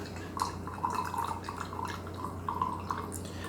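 2019 Gyokuro Kin green tea spills from the lid of a brewing vessel while being poured, making a steady trickle with repeated drips over a low background hum.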